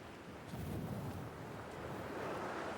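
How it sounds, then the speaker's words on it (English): Wind in the video game Dear Esther, a steady low rushing gust that fills the whole stretch without letting up. "It's very windy."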